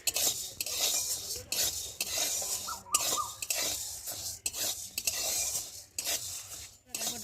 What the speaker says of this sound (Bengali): বিউলি ডালটা একটু ভালো করে একটু সময় ধরে একটু ভেজে নেব।